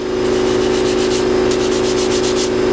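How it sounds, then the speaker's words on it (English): Sandpaper rubs across a cast aluminum motorcycle rim to remove a small mark, a steady close scraping with rhythmic strokes over a constant low mechanical hum. "Sand that mark out."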